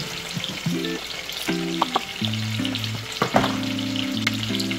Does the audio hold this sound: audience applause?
no